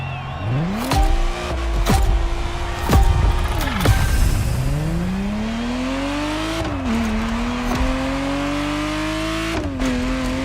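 Ferrari Testarossa engine in The Crew Motorfest video game, revving up through rising gear pulls with sharp shift breaks, then a sustained drone and another climb, loud and close with no talk.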